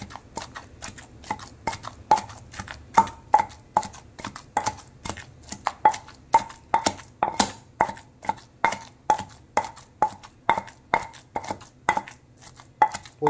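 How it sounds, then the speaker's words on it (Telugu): Fresh mint leaves are pounded in a stone mortar for a homemade pudina chutney, with steady, evenly spaced thuds repeating about twice a second, close and clear, with no talking. "ఇప్పుడు పుదీనాని కూడా రోట్లో వేసి ఇలా దంచుకోవాలి"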